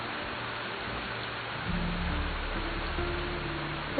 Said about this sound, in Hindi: बारिश कब रुकेगी?